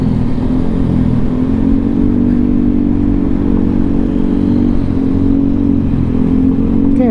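Close motorcycle engine hums along the road at a steady medium pitch, loud and continuous, with faint rattling and surrounding traffic noise.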